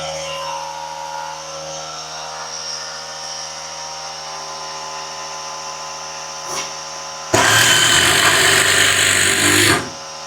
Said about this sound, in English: Is that compressor too loud for you guys?